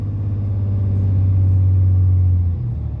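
A Cummins 6.7L diesel pickup engine holds a steady 2,000 RPM, a loud, even, close-up drone with a deep hum, then drops slightly near the end.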